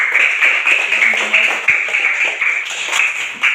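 Classmates in a primary school classroom clap for a fellow student, a dense, steady patter of many hands lasting a few seconds, fairly close and filling the room.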